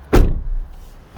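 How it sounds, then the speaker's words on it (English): The rear door of a Mazda MX-30 shuts with a single solid thud, close and loud, followed by a brief low rumble as it settles, with no voices. "so always make sure you close the back door first."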